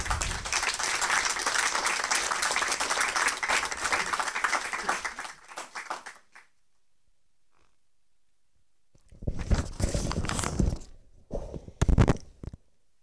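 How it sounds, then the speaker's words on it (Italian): Applause from an audience at an Italian award ceremony, loud sustained clapping that dies away into silence, then a second shorter burst of clapping and a few final strong claps. "Accogliamola con un applauso."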